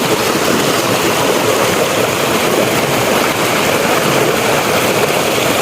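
Steady, loud rush of typhoon flood water churning without pause, like a fast current, with no voices over it.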